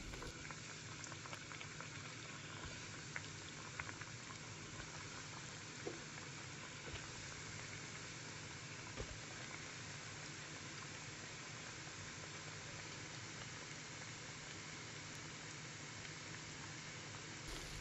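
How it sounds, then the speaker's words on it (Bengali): Vegetable cheese balls deep-fry in a wok (kadai) of oil, giving a steady, faint bubbling and sizzling hiss that runs without a break and with no talk. "এখন একটি কড়াইতে পর্যাপ্ত পরিমাণ তেল দিয়ে আমি ডুবো তেলে ডিপ ফ্রাই করে নেব সবগুলো চিজ বল"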